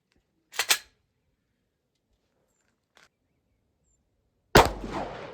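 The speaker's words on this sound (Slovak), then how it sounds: "Takže prvý výstrel." A handloaded 10mm Auto cartridge with a 200-grain Ares bullet over Vectan SP2 powder fires once: a loud sharp crack near the start, then quiet, a faint click later and another sharp burst near the end.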